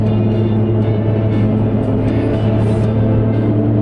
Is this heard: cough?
no